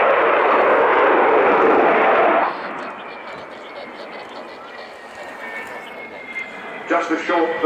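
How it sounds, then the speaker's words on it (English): A loud, broad roar from an Avro Vulcan's Olympus jet engines surges for a couple of seconds during an air display pull-up, then drops to a softer rumble with faint voices and a brief rise near the end. "Just a short burst on the Olympus engines there as he pulls up for that steep wing over"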